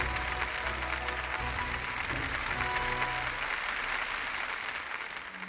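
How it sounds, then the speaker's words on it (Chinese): Studio audience applause for a televised archaeology lecture, a dense, steady wall of clapping that holds evenly for several seconds and fades slightly at the end. "掌声有请"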